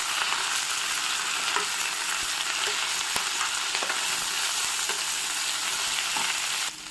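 Moringa leaves fry steadily in a pan, a dense continuous sizzle heard up close with a few faint stirring scrapes and no voices.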